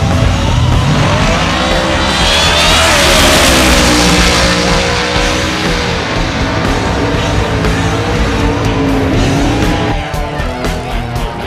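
Street-legal drag racing cars in the Northwest, loud and continuous: engines roar with rising and falling pitch and a whine sweeping upward mid-way, carrying on steadily through the whole stretch, no talk.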